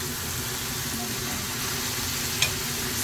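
Potatoes frying in a pan with onion and meat in a Chinese-style vegetarian cha jan dish, a steady close sizzle with faint crackle running without pause, no voices.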